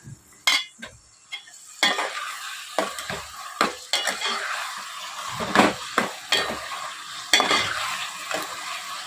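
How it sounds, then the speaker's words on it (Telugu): Chicken and onions are stirred together in a frying pan for a Telugu chikkudukaya chicken curry, giving sharp clinks and scrapes of the spoon against metal at an uneven pace over a soft sizzle, close by and without speech. "ఇందులో వేసుకుని ఇదంతా కూడా ఆనియన్స్ చికెన్ మొత్తం మిక్స్ అయ్యేలా బాగా కలుపుకోవాలి."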